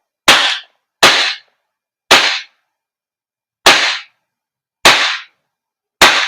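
Six sharp, loud cracks from an airsoft gas blowback pistol at uneven intervals about a second apart, each a snappy burst that dies off fast, with silence between shots.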